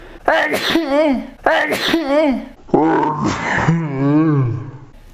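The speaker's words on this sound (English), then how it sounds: "Oh, I gotta sneeze" A person sneezes loudly, a drawn-out vocal burst that rises into a strained, moaning tail, close to the microphone.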